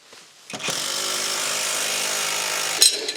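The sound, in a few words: impact driver tightening screws on metal wall shelf bracket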